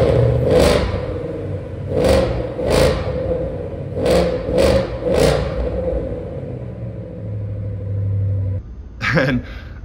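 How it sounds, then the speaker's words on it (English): A Shelby Super Snake widebody with over 800 horsepower idles with a deep, rumbling exhaust, punctuated by several sharp throttle blips and revs close to the microphone. "we might as well fire it up and hear what that exhaust has to offer"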